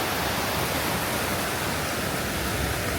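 Steady, dense rush of a waterfall on Porcupine Mountain, a constant broadband roar with no pauses, close by and fairly loud.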